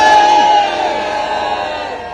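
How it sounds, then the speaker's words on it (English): A large protest crowd at a childcare march booing loudly, a sustained collective jeer that swells at first and then holds steady. "I'm glad that you're booing at that."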